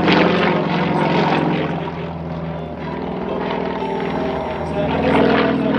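A Sukhoi Su-26MX aerobatic plane flies a display at an air show at Tanagra in 2016, its propeller engine a loud, continuous droning roar that swells and eases as it moves.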